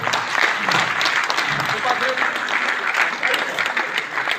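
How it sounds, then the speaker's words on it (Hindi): An audience claps at a magazine release ceremony during an annual convention, a dense, sustained round of applause with slight swells, moderately loud and continuous. "आप लोग तालियों की गर्जना से स्वागत करें।"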